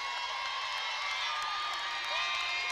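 Gym crowd at a district championship girls basketball game cheering as a player leaves the floor, a steady broad roar of voices with scattered whoops and clapping.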